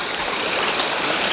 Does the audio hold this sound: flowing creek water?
yes